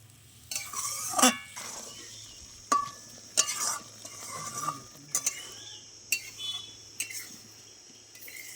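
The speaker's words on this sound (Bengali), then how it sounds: "অল্প পরিমাণে জল দিয়ে দেবো মশলার সাথে পটলটা ভালো করে মেশার জন্য" Pointed gourd stirred with spices and a little water in a pan, heard as a soft low sizzle under a series of sharp metal spoon clinks and scrapes against the pan, spaced irregularly and close.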